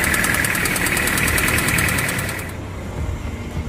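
A car engine idles steadily at close range with a broadband mechanical rumble, then shifts to a lower, quieter hum partway through; no talking.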